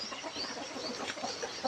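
Chickens cluck softly while foraging for insects in morning rain at a temple yard in Chae Hom, Lampang, short scattered clucks over a steady hiss of rainfall.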